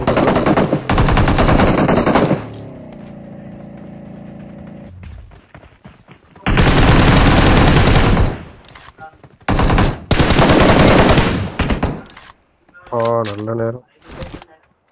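PUBG gameplay gunfire: loud bursts of rapid automatic fire come in several separate volleys, split by quieter stretches with softer clicks and rattles.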